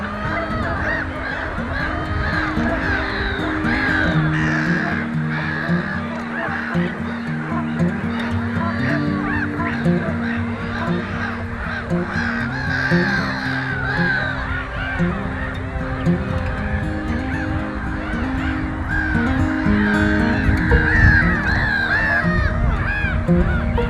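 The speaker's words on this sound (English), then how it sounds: "A number of dark-bellied Brent geese swam around the islands and coming a bit closer." A flock of dark-bellied Brent geese on water keeps up a continuous chorus of honking calls, overlapping and fairly close, with no pauses throughout.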